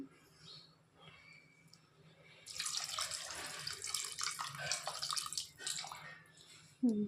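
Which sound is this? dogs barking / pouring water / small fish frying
pouring water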